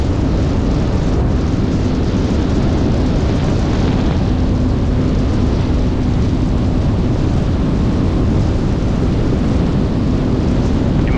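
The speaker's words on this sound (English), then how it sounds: "it's really hard to resist squeezing the throttle all the way to the wide open position" A 2024 Yamaha FX SVHO personal watercraft runs at wide open throttle, a loud, steady engine and hull roar mixed with heavy wind rush on the microphone, continuous and unbroken throughout.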